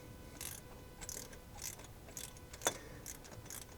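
A wrench loosening a bolt on an old barn-find car, giving a series of quiet ratcheting clicks in a steady rhythm with one sharper metallic tick, close up with no talk.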